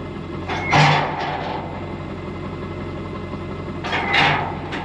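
A tractor engine idling on a farm while hay is hauled, a steady low running hum with two louder clunking or rattling bursts.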